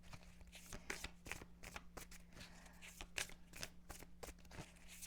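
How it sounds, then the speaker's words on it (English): Someone shuffles a deck of tarot cards close up, producing crisp, irregular riffling and tapping bursts over a steady low hum. "I'm going to shuffle again."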